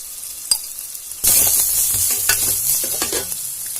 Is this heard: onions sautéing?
yes